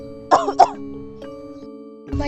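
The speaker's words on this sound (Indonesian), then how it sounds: "Mengapa Ratu batuk darah seperti ini?" A queen in a stage drama coughs twice in quick, harsh bursts over a soft sustained musical tone, followed by faint throat sounds and then a further cough.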